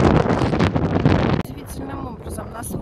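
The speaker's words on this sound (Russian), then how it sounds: "Здесь вообще, ну, ветер есть такой, но не такой, не ураганистый." Loud gusting wind buffets the microphone near water at Tsarskoye Selo, St. Petersburg, then drops away abruptly, leaving quieter outdoor ambience with a voice speaking briefly.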